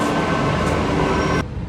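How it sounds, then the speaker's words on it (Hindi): Ride aboard a Delhi Metro train, a loud steady rolling rumble and hiss inside the carriage that drops away suddenly near the end. "ओ जी आ गया मेट्रो पे चल रहे हैं।"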